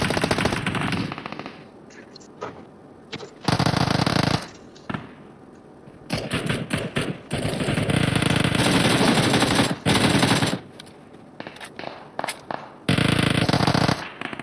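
Gunfire in PUBG Mobile: loud bursts of rapid automatic shots and single cracks, repeating in clusters across the stretch, with a voice talking over parts of it.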